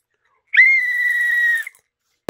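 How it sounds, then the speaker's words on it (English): A single sustained whistle tone, sliding briefly at the start, then held steady and loud for about a second before cutting off, with near silence around it. "I have a whistle."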